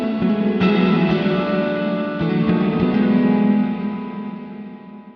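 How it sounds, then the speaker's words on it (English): An electric guitar played through a Sonicake Levitate delay/reverb pedal with the decay turned right up rings out in a big, dense reverb wash, with a few picked attacks, before slowly fading. "if I turn the decay right up as well, you're going to hear a lot of reverb"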